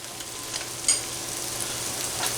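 Butter sizzling in a frying pan while steak and cheese stuffed peppers cook, a steady close hiss with a brief louder crackle near the start and no talk.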